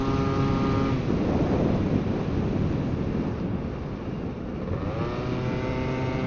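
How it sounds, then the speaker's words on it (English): A Yamaha BWS two-stroke scooter held at full throttle while climbing a mountain, its engine a steady high-pitched buzz with a shifting whine, heavily buffeted by wind roar on the microphone. "Hanging on the throttle, boys, hanging on the throttle."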